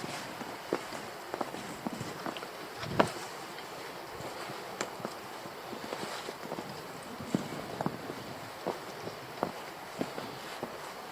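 Footsteps crunch and scuff down wet, slippery black rocks along a shore on a stormy day, a steady uneven series of soft close steps over faint wind.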